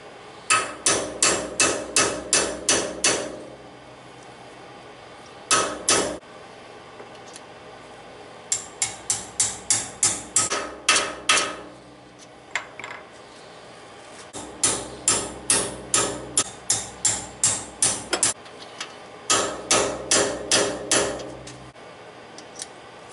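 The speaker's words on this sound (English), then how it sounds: "Then that's when I'll stop hammering" Rapid bursts of metal hammer blows in several runs, each a quick series of sharp, ringing strikes separated by short pauses, driving valve guide bushings in on an M38 Go Devil engine.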